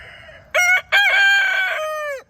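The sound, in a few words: rooster crowing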